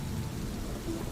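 Steady rain falls with a low rumble of thunder beneath it, a dense, continuous wash of sound at a constant level with no voices.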